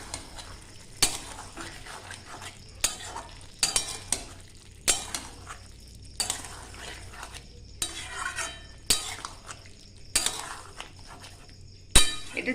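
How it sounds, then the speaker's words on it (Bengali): Coconut and papaya curry with garam masala being stirred in a pan, a spoon scraping and clinking against the metal in repeated strokes roughly every second, close and moderately loud with no talk. "এবার একটু নাড়িয়ে দেবো।"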